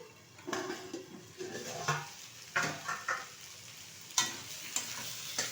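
Sweet pumpkin with shrimp frying in a pan, a moderate sizzle punctuated by several sharp spatula scrapes and knocks against the pan, with no talking.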